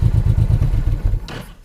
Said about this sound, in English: now I'm gonna shut down the engine